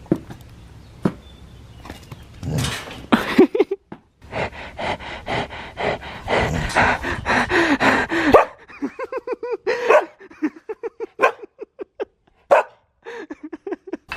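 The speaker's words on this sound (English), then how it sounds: "You finally barked at me after all these months" A pet dog barks repeatedly in short, sharp bursts, loud and close, the yaps coming in a quick irregular series after a stretch of rustling and household noise.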